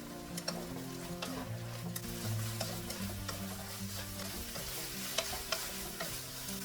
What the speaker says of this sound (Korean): 이제 꼴뚜기를 넣어 양념장이 한두 큰술 남을 때까지 졸여줍니다.